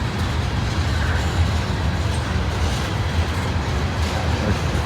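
A freight train with tank cars rolls past near a rail yard on an NS or CSX line, giving a steady, loud, close rumble and rush of wheels that holds evenly throughout.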